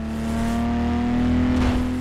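Steady engine drone with a strong harmonic hum from a car's exhaust in the racing game Need for Speed Carbon, rising slightly toward the end as if revving, loud and continuous with no talk.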